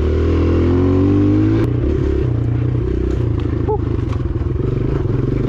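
An enduro motorcycle rides a flat dirt track in the woods, its engine revving and shifting loudly up close with clattering and scraping from the terrain.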